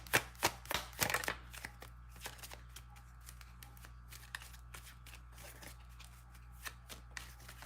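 A tarot deck being shuffled, with a quick cluster of close card slaps and riffles at the start, then quieter, sparse flicks over a low steady background hum.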